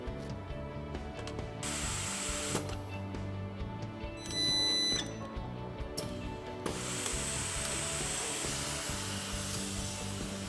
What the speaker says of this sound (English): And that's the outcome of resistant spot welding